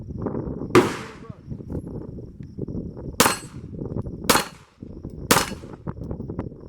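A Smith & Wesson M&P 2.0 Competitor pistol fires CCI Blazer aluminum 115 grain rounds at an outdoor range: four loud, sharp, spaced shots with a hollow ring of the steel-cased report between them.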